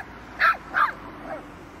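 Two small dogs give two sharp yips close by, then a fainter third bark trails off, with background quiet between them.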